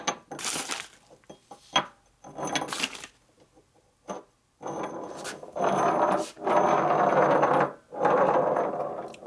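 A 1957-76 Sportster XL kick starter gear with its shaft rolls and wobbles on a flat surface, producing uneven metallic scraping and rattling bursts separated by short pauses, close to the listener.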